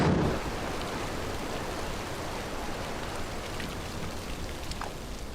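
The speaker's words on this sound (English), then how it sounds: "torrential rain now turned the battlefield into a quagmire" Torrential rain pours down over a muddy battlefield on Okinawa, a steady, dense hiss of heavy downpour that holds at a constant loudness throughout, with no voices.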